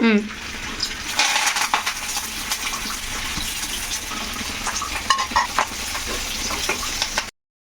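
Tempering spices crackle and sizzle in hot oil with a continuous bright hiss and scattered pops throughout.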